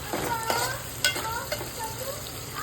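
Onions frying in a pan for an egg curry with broad beans, a continuous close sizzle broken by several scraping stirs of a spatula, no one speaking.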